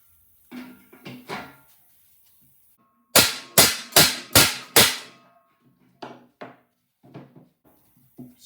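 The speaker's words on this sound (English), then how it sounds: "Beat it with a hammer" Five hard, ringing hammer blows strike a twisted 1965 Malibu SS car part to flatten it, landing in a quick steady burst, preceded and followed by scattered lighter knocks and taps.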